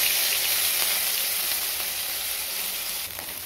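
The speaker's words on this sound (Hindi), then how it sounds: "तो प्याज को अच्छे से भून लेते हैं गोल्डन ब्राउन होने तक।" Grated onion sizzles and fries in hot oil in a kadhai, a steady, bright crackling hiss that stays even and close throughout, easing slightly toward the end, with no talking.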